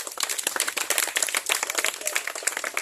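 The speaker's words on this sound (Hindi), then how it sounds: "इस बात पर अगर जायज है तो आप लोग तालियों से।" A crowd at a drivers' union protest in India, demanding accident insurance for drivers, breaks into applause: a dense, steady crackle of many hands clapping at once, fairly close and continuous, with no talk over it.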